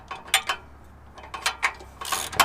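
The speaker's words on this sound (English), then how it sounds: "we use our 14 socket. Get those 3 bolts at either end nice and tight." A 14 mm socket ratchet tightens exhaust header bolts on a Subaru BRZ / Toyota GT86 during a Borla header install, giving quiet, close clicking bursts in irregular clusters against a hushed background.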